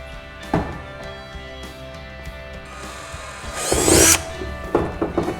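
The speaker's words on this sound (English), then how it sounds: "That's where we're going to drill our hole, and it's an 11/64 hole we're going to drill." A power drill whirs briefly, then bites into plastic with a louder grinding burst, drilling an 11/64 hole on a Ski-Doo, followed by a few short clicks and taps.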